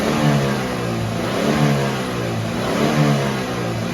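A Saturn Vue 2.2 Ecotec engine revs up and settles in repeated surges, loud and close, with a steady high whine above it and no voices.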